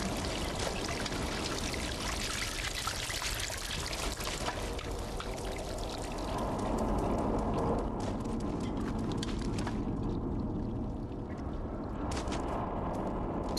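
Water pours and streams steadily in the video game Stray, a continuous rushing flow that holds loud and even throughout before thinning slightly toward the end, with no talking.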